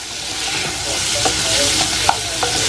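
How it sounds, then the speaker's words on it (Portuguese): Bacon and sausage frying together in a pan, a steady close sizzle with crackles and occasional sharp pops, no voices. "E agora eu vou fritar ele junto com a linguiça."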